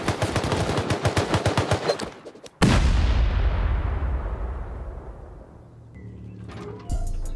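Rapid, evenly spaced machine-gun fire in the survival video game Rust during a raid, then a sharp, loud C4 explosion whose roar rumbles and fades over several seconds, followed by faint clanking and another thud.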